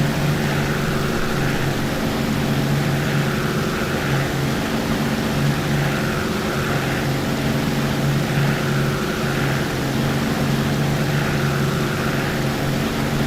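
Simulated Merlin engine of a P-51 Mustang in the DCS flight simulator, a steady loud drone with strong low harmonics and a broad airy roar, holding evenly throughout with a slow pulsing in the upper band and no voices.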